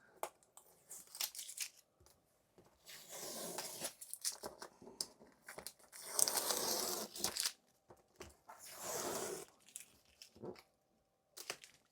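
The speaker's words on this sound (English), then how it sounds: "if I remove the tape" Masking tape peeled off a watercolor autumn tree painting in several slow, close tearing strips, crackly and papery, with short pauses between pulls.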